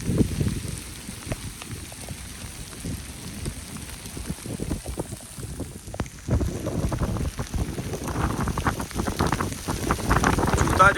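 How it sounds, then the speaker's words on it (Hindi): Heavy rain pours steadily on an open rural home and fields in summer heat, a dense continuous hiss with wind gusts buffeting the microphone, swelling louder toward the end; no talking. "अल्हम्दुलिल्लाह बहुत तेज़ बारिश हो रही है"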